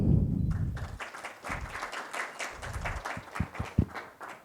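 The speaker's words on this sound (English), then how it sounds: "Please join me giving a warm welcome and a round of applause to welcome him to the podium." An audience gives a keynote speaker a round of applause, a fairly sparse, moderate clapping with scattered louder individual claps and soft thuds that thins out toward the end.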